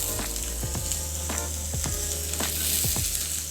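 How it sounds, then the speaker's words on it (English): Asparagus stir-frying in coconut oil in a hot pan gives a steady close sizzle and crackle, with scattered soft clicks and scrapes as it is stirred. "Just stir fry for about 3 minutes until bright green, slightly tender, and a little bit charred in places"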